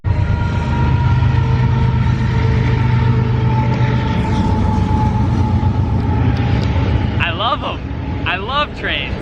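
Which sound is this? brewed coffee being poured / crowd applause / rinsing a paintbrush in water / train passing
train passing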